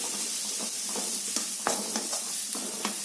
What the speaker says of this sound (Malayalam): ഇനി നന്നായിട്ടൊന്ന് ഇളക്കി കൊടുക്കാം ഈ ഉള്ളി മുളകൊക്കെ ഒന്ന് നന്നായിട്ടൊന്ന് വഴക്കിയെടുക്കണം